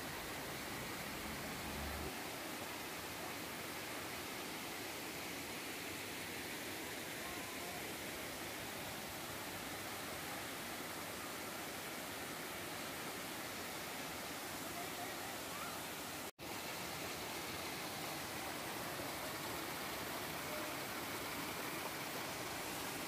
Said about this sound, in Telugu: చూడండి ఇక్కడ వాటర్ పైనుంచి కిందికి చాలా ఫ్లో అవుతుంది, చాలా అద్భుతంగా